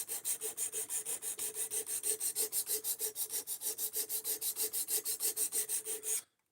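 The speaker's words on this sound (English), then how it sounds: "Your knife is probably going to flex up and down as you're sharpening" A whetstone on a clamp-style sharpener strokes back and forth along a long knife blade in a fast, even rhythm of about five rasping passes per second, close and clear, then stops abruptly.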